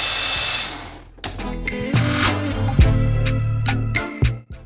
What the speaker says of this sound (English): Cover and blend this until nice and smooth.